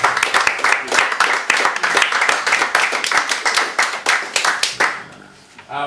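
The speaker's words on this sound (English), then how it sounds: "so more applause please for Lisa Kelly." Audience applause following a poetry set at a poetry cafe reading, dense steady clapping from many hands close by, lasting about five seconds before quickly fading out.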